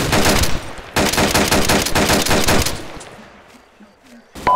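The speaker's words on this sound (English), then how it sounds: "Oh, we got shot at." Automatic gunfire in ARMA 2 combat, loud rapid bursts crackling for about three seconds, then fading to faint scattered sounds before a sharp final shot.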